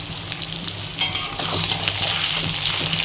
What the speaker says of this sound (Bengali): এটা আমি ভাজা করে নিচ্ছি, তেলের ভিতরে একটু ভাজা করে নিচ্ছি